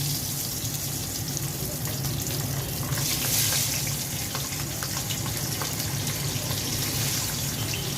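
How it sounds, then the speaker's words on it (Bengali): Pabda fish fry in hot oil in a pot, a dense, loud, continuous sizzle and crackle that holds steady throughout with no speech. "প্রথমে পাবদা মাছগুলো ভেজে নিচ্ছি।"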